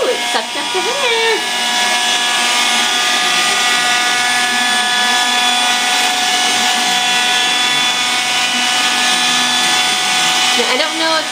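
A Swiffer vacuum cleaner runs loud and close, picking up hair with a steady, whining roar and a high electric hum that holds for the whole stretch, with a voice briefly heard.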